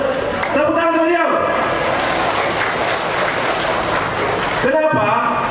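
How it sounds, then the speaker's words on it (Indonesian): Loud, dense applause for a candidate at a campaign rally in Sidrap regency, a continuous roar of clapping that starts and ends under someone speaking through a microphone. "Tepuk tangan beliau."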